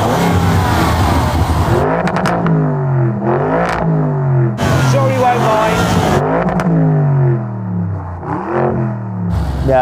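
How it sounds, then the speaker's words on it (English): A Lamborghini Urus with an aftermarket exhaust system starts and revs, giving several loud, rising and falling throttle blips that swell and drop off between bursts, recorded close by, with people talking faintly in the background. "So let's hear it. Go on, let's start the engine."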